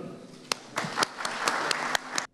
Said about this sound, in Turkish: Sizleri bir alkışlıyorum.